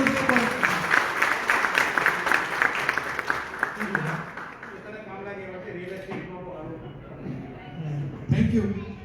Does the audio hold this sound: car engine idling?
no